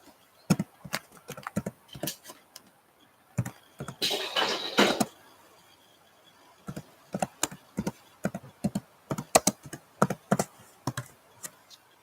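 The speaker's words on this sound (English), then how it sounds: "I could type that for you too, hon" Someone types on a computer keyboard nearby in short, irregular bursts of crisp key clicks, with a brief scuffing rustle in the middle and quiet gaps between the taps.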